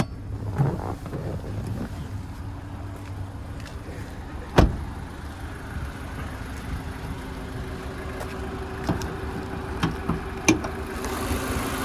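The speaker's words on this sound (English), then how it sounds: "we'll have a look underneath the bonnet while the motor's still running" A 2018 Mazda6 Touring idles steadily with the bonnet open, a low continuous engine hum with a single sharp knock partway through and a few faint clicks, no one speaking.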